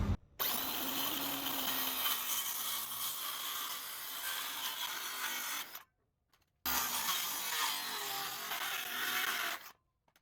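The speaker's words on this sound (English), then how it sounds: "So we're just going to use our circular saw here and speed square to get this done." A circular saw, guided along a speed square, makes two loud sustained cuts through wooden boards for a raised garden bed, each a few seconds of close, high-pitched buzzing separated by a brief silence.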